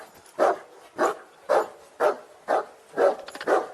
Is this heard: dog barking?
yes